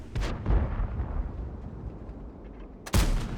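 Tank cannon fire in a tank video game: a heavy booming shot rumbles at the start, its low roar fading slowly before a second sharp blast near the end, loud and with no voices.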